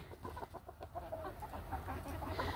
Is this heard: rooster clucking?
yes